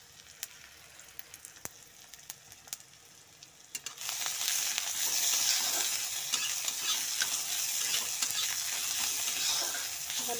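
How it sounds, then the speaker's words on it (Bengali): Onions and green chilies frying in oil with panch phoron spices, starting with scattered crackling pops, then swelling into a loud continuous sizzle from about four seconds onward. "ভালো করে একটু ভেজে নেব।"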